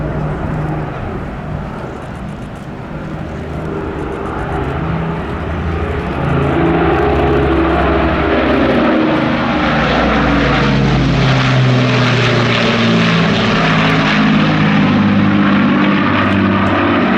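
The Battle of Britain Memorial Flight Avro Lancaster bomber's piston engines and propellers drone loudly overhead, the throbbing roar swelling after a few seconds and holding strong as the aircraft passes close by, with no talk.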